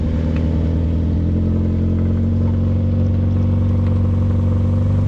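A Toyota Supra with four-wheel steering driving along, its engine giving a steady droning hum at constant loudness with no voices.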